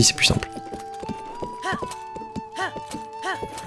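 Horse hooves clip-clopping in rhythmic patterns in Zelda Breath of the Wild, with game music tones and bursts of someone talking over them.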